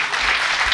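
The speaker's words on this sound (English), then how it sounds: "I just want you to give a round of applause to these 3 writers" Audience applauding for three writers at a literary event in Madrid, a dense, steady burst of clapping from a crowd, heard alone.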